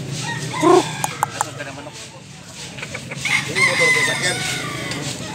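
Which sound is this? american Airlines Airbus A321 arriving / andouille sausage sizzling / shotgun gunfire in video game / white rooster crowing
white rooster crowing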